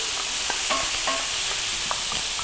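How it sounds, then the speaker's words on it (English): Kimchi tossed into a hot pan with ham and stir-fried over medium-high heat, a loud dense sizzle with repeated clinks and scrapes of the spatula against the pan. "Then quickly, we're gonna add our kimchi."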